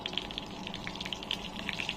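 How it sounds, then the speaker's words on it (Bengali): Pointed gourd (potol) frying in a hot wok, a soft continuous sizzle with small scattered pops and crackles, close but fairly quiet. "কড়াই গরম হয়ে গেছে, পটলটাকে ভেজে নিচ্ছি।"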